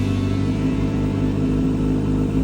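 A motorcycle engine idles while warming up, a loud, steady, close rumble with a low pulsing throb and no change in revs.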